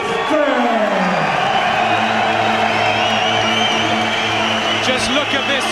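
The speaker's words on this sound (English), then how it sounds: "Just listen to this crowd" A packed boxing crowd at Coventry Sports Centre roars continuously as the home challenger enters the ring, a dense, loud wall of cheering and whooping with a voice carrying over it.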